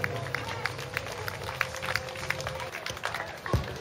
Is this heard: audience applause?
yes